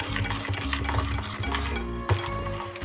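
An egg beater works through a batter of egg yolk, water, oil and flour in a bowl, giving a steady close whirring with rhythmic scraping and clinking against the bowl, and no voices.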